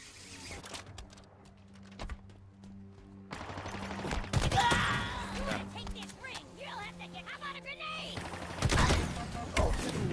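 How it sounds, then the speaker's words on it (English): Gunfire in the Halo Infinite campaign, with scattered shots and bursts of varying loudness over a steady game music and ambience bed, plus a sharp loud volley near the end. "Okay, who's shooting me from behind?"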